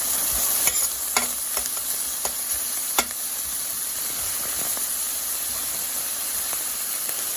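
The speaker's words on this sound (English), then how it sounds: "Pour in 2 tablespoons of the chopped onion, and then 2 tablespoons of the oregano. Saute it a little bit." Garlic, chopped onion and oregano sauté in a pan with a steady sizzle, broken by a few sharp clinks of a utensil stirring against the pan, close and clear with no talking.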